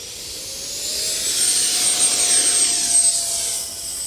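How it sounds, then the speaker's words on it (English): A Freewing 70mm F-16 RC jet in Arctic camo takes off with half flaps, its electric ducted fan giving a loud, high whine that rises and swells steadily, close by and alone. "taking off the Freewing 70mm F-16 Arctic Camo"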